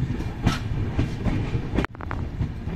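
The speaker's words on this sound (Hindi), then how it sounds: "मुरादाबाद रेलवे स्टेशन के जंक्शन को हम लोग छोड़ते हुए आगे का सफ़र शुरू करते हैं" A passenger train pulls out of Moradabad junction, its wheels thumping over rail joints in a steady clickety-clack that fills the carriage, with a brief sharp drop in noise near the end.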